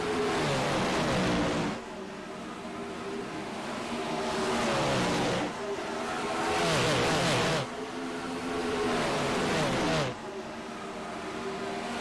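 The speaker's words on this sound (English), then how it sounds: "You know, Zach, I might still like the sound of a 2003 NASCAR Cup car a little bit better, but this is a pretty close second." Engines of 410 dirt sprint cars at Knoxville race past in roaring waves, rising and falling as cars pass and rev one after another, loud and continuous with the track's ambience behind.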